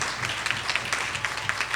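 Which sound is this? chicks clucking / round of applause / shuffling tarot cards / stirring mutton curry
round of applause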